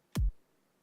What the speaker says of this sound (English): The first snare sounds like this.